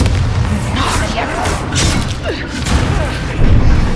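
Loud, booming spell explosions from Bombarda in Hogwarts Legacy on hard mode, thudding amid dense combat noise with whooshes and shouted incantations layered over them.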